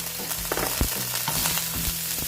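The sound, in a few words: ginger frying in oil in a pan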